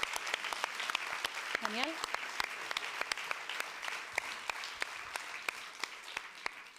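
An audience at the awards ceremony of a short-film contest gives steady, fairly distant applause with crisp individual claps throughout. A single voice briefly calls out partway through.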